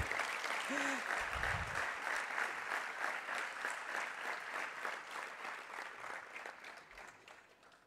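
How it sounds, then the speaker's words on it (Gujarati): Youth assembly audience applauding, a dense sustained clapping that fades slowly over several seconds, with a voice briefly heard at the start. "એકવાર જોરદાર આપણા બધા માટે તાળીઓ"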